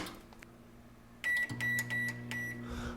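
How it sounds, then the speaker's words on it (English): A microwave oven heats a portion of cooked rice, its steady low hum starting partway through, with a few sharp electronic beeps from the keypad just before it kicks on. "so I'm going to throw one of these in the microwave."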